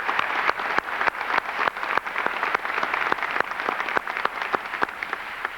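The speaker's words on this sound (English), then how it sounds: "this applause is for you" Sustained audience applause at a high school graduation ceremony, steady dense clapping with sharp individual claps standing out, loud and filling the hall, no talking over it.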